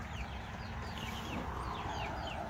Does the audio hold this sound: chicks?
yes